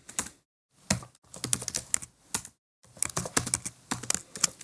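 Fast bursts of typing on a computer keyboard while code is entered, with crisp clustered keystrokes broken by short silent pauses, up close and alone.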